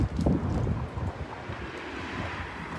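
Cold wind gusts rush through trees in early morning, a steady broadband roar that swells briefly at the start and then settles into continuous blustery noise against the microphone.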